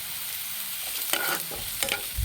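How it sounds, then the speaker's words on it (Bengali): Onion and garlic fry in a pan while being stirred: a faint, steady sizzle with a few brief scraping stirs, quiet and close. "এবার পেঁয়াজটার সঙ্গে রসুনটাকে ভালো করে ভেজে নেব।"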